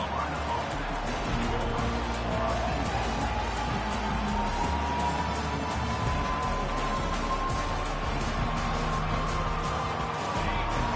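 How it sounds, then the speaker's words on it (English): A large stadium crowd roaring and cheering in a steady, dense wash of noise that holds throughout, loud and continuous without a break. "This crowd bringing the energy and noise early."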